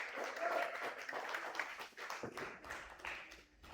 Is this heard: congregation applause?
yes